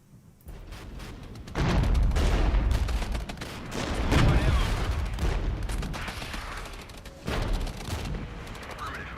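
Bursts of battlefield gunfire and booming shots in the Regiments war game, heavy volleys arriving in waves with short quieter gaps between them.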